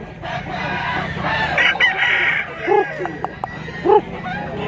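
A rooster in a Philippine provincial setting crows a few times amid ongoing clucking and yard noise, moderately near, with some voices in the background.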